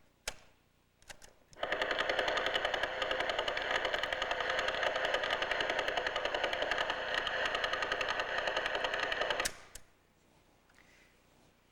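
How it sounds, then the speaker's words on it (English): Rapid, evenly spaced radio pulses from a spinning pulsar, a neutron star, form a steady buzzing rattle for about eight seconds, starting and stopping abruptly, with quiet before and after. "What you're hearing is a star that's about 10 miles across, spinning."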